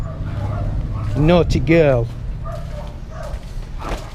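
A dog barks and whimpers in short yelping bursts close by, then gives softer whines, while a woman scolds it over the sound.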